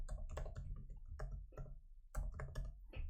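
Fingers tap out a quick irregular run of keypresses on a calculator keypad, close and soft, with clustered clicks and brief pauses between entries.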